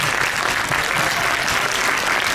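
A school audience claps for primary-grade poetry and storytelling participants, dense sustained applause filling the room evenly, loud and close.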